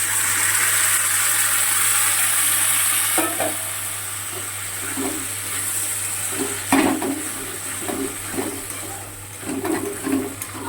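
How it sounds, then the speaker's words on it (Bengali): Boiled lentils are tipped into a hot, sizzling pan of tempered spices for dal tadka. A steady frying hiss runs throughout, then bursts of louder sizzle and stirring scrapes follow, with no talking. "আমি ডালটা সিদ্ধ করে রেখেছিলাম সেটা দিয়ে দিচ্ছি।"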